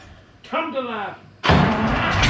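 A twelve-cylinder engine, running on a stand without a drive shaft, bursts into a loud, steady roar just after a brief voice.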